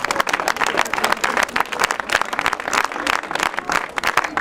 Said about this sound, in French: je vous demande aussi de l'applaudir parce que bravo